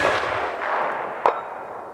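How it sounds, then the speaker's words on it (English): A single sharp gunshot from a very lightweight .221 Fireball hunting rifle cracks out once, near and loud, over a steady outdoor background hiss. "this is a very lightweight rifle and shooting it is pretty much like"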